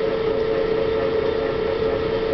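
A stand mixer creams spritz cookie dough at medium speed, giving a steady, fairly loud motor hum that holds even throughout without any talk.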